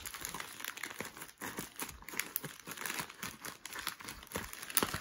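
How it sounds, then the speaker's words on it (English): A trading card pack wrapper is worked open, giving continuous close, crisp crinkling and rustling of plastic foil for a few seconds, with no talk. "cutting a pack open."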